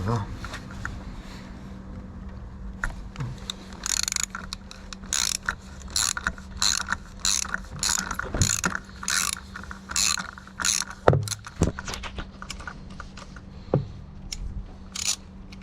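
A ratchet wrench clicks in quick bursts while loosening spark plugs on a Renault Clio 2 1.2 16V engine, with a low hum underneath and someone speaking between the clicking runs.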